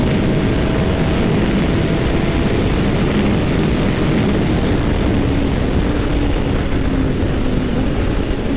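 A Honda CB1000 naked motorcycle rides slowly on a racetrack while warming its tyres, giving a loud, continuous engine drone with rushing wind noise and no talk over it.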